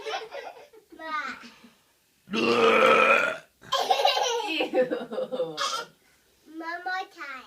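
A child lets out a loud, drawn-out burp amid giggles and laughter, with children chattering before and after it.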